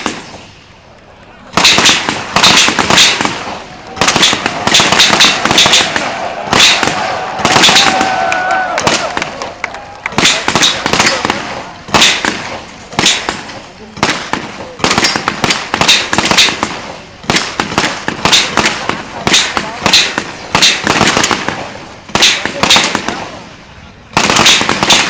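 Soldiers fire weapons during a Kopassus special forces anniversary ceremony in Jakarta, loud rapid volleys of sharp gunshots cracking in dense irregular bursts over about twenty seconds after a brief quiet start, with crowd noise between shots.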